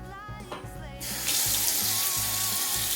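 Kitchen tap turned on to wash sweet potatoes, going from a thin trickle to a steady full gush of water splashing into the sink, close and loud under a low hum.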